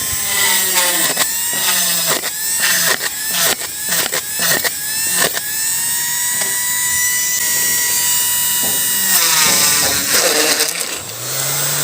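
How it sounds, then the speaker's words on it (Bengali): A homemade drill built from a 775 DC motor whines loudly and steadily, its pitch dipping and surging in repeated bursts as the bit bites into material, then winding down. "দেখতে পেলেন আমাদের এই ড্রিল মেশিনটা কতটা পাওয়ারফুল।"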